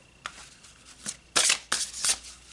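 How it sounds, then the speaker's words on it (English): Tarot cards being shuffled by hand, a few light riffles followed by louder, crisp bursts of card flapping, close and alone with no voices. "Okay, so let's pull some more cards."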